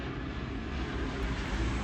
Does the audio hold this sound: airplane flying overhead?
yes